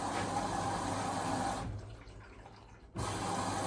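Water rushes steadily into a washing machine filling for a blanket wash, a close continuous hiss that briefly fades to a low trickle before surging back strongly.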